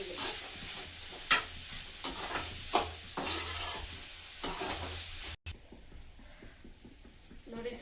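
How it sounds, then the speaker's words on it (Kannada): Grated coconut fries in a sizzling tempering while a spoon scrapes and stirs it in repeated strokes, soft crackle underneath, with a brief break before quieter sizzling resumes. "ತೆಂಗಿನಕಾಯಿ ತುರಿನ ಹಾಕ್ಬಿಟ್ಟು ಫ್ರೈ ಆಗಬೇಕು"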